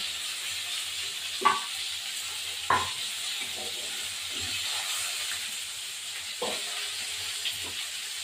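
Fish fry in hot oil and are lifted out one by one, a steady quiet sizzle and hiss broken by a few sharp clinks and scrapes of a utensil against the pan.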